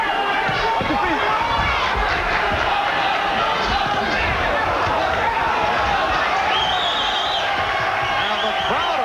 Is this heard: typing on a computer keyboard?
no